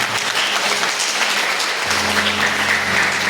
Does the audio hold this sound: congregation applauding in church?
yes